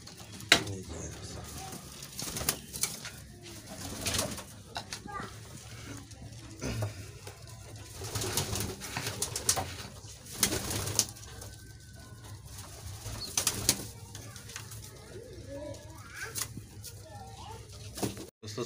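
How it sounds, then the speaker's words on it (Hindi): Pigeons just released from their coop coo and bustle nearby, with soft wing flaps and scattered clicks over a steady low background hum. "दोस्तों सारे कबूतर खोल दिए, दाना अपने अपने दाना खाने में मसरूफ़ हो गए हैं।"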